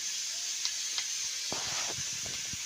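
Green chilies frying in a pan over a cooking fire, a steady close hiss of sizzling oil with a few sharp pops and faint stirring scrapes, no talk.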